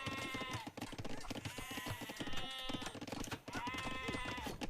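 Sheep in the Age of Empires video game bleat repeatedly, a run of quavering baas overlapping in quick succession, fairly quiet and alone without talk.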